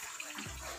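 Water poured into a pot for mango jelly, a short steady gushing splash that deepens as the pot fills, close and alone.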